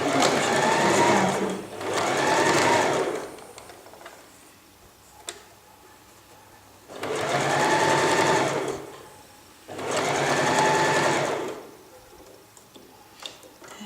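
A sewing machine stitches dress fabric in three sustained bursts of steady, fast mechanical whirring. The machine falls silent between the bursts, and a faint click is heard during one pause.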